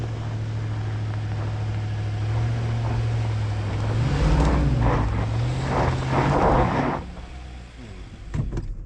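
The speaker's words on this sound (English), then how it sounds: "Yeah, it's just spinning the wheels." A 2025 Nissan Patrol Warrior strains off-road in rock terrain with its wheels spinning, giving a loud sustained engine drone that rises and wavers with a grinding, rushing texture before easing off.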